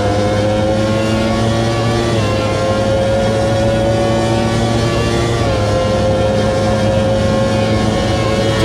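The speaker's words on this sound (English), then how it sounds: "you could hear the Ferrari driving off." Steady engine drone from a historic Ferrari race car at Monza in Automobilista 2, a loud, sustained tone with slowly shifting pitch and no pauses throughout.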